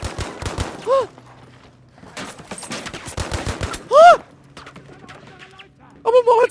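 Bursts of automatic gunfire in the World War II shooter Battlefield V, with rapid strings of shots early and midway and sharp bright blasts between, as players call out under and around the shooting.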